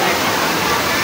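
A loud, steady roar of a waterfall in Kashmir, with dense broadband rushing water filling the scene continuously and no distinct breaks.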